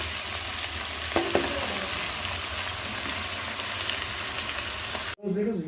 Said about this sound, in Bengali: এই যে তেলের মধ্যে আর পেঁয়াজটা দিয়ে দিচ্ছি